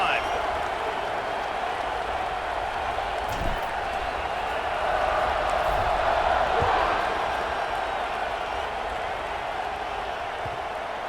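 A football stadium crowd in a video game roars in a sustained, fairly distant wash of cheering and applause that swells slightly midway, with a few brief thumps.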